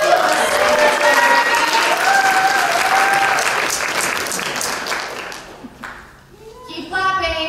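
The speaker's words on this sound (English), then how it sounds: "Let's give a hand to Emily, the fabulous singer." An audience bursts into sustained, loud applause for the singer Emily, dense clapping filling several seconds before fading, with a voice rising as it tapers off.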